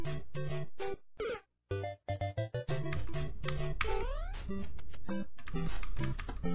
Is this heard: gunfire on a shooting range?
no